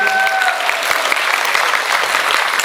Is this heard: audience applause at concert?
yes